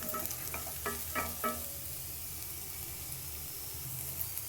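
Mixed vegetables frying in a pan for a vegetable curry, a soft continuous sizzle and hiss with a few light taps of stirring early on, then steady frying noise alone.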